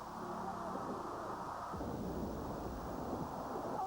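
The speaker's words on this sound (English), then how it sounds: "Unbelievable explosion. The car is upside down and on fire with Carson in it." A deep, rumbling blast swells into a sustained roar of noise as a race car explodes and burns upside down at a 1991 USHRA event in Worcester, heard from a distance with no clear talking.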